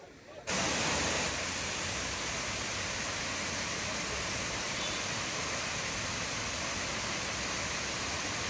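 Sivasamudram waterfall in flood roars as a dense, constant wash of noise that swells in abruptly, then holds loud and unbroken to the end.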